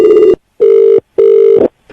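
A loud telephone ring tone sounds on a call being placed again, three steady buzzing pulses separated by short silences, with nothing else heard.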